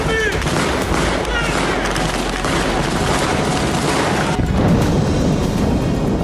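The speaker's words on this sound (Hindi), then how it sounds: "जबरदस्त फायरिंग की, वाहन से निकलकर भाग रहे जवानों पर गोलियां बरसाई" Dense, continuous gunfire with overlapping rapid shots and rumbling blasts, loud and sustained throughout, as in a firefight between fighters in Gaza.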